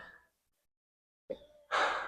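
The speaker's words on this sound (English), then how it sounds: "I feel like I'm breathing so hard." Heavy breaths from a person mid-workout during a back-training session, a short exhale, a pause of silence, then a sharp inhale and a long loud forceful gasp close to the mic.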